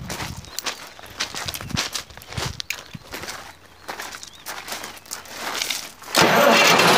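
A Poclain excavator engine at a sand factory cranks amid footsteps and shuffling nearby, then catches and roars loud and steady in the final second.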